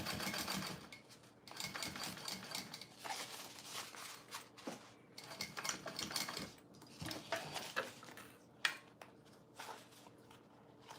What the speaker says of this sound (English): I'm going to top stitch